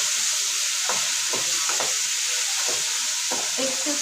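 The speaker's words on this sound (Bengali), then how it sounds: "আমি এই যে হলুদ আর একটু লবণ দিয়ে এটা একটু ভেজে নিচ্ছি।" Vegetables sizzle steadily in hot oil with turmeric and salt, a constant close hiss broken by several soft scraping stirs of a spoon in the pan, with no talking.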